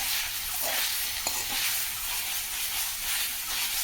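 Jute leaves stir-frying in oil in a village kitchen, a close steady sizzle and hiss with a few soft scrapes of stirring, continuous and without talk.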